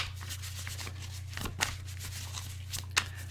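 Tarot cards being shuffled indoors, soft quiet riffling and rubbing with a couple of sharper snaps, over a steady low electrical hum.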